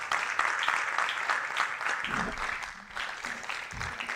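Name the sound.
applause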